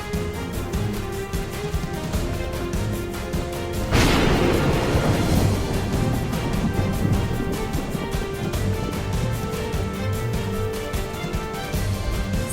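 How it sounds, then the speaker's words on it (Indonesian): A sudden loud thunderclap from a lightning strike bursts out partway through, then rumbles and fades under steady rhythmic background music. "tiba-tiba terdengar suara petir dengan ledakan yang keras"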